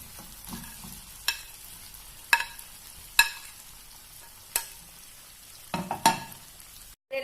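Fried chicken pieces are stirred into a chilli flakes sauce in a pan, with sporadic scraping and clacking spoon strokes and a faint sizzle underneath, fairly quiet and close, with no talking.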